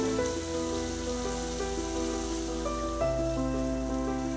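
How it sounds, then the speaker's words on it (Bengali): Rinse water from a mixer jar poured into a hot pan of dhokar dalna, giving a steady, loud sizzle and bubbling hiss that stays even throughout with no voices. "এবার দিয়ে দেবো মিক্সার ধোয়ার জল"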